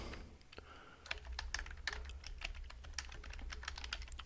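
Quick bursts of close computer keyboard typing enter a terminal command, a busy patter of key clicks over a low hum.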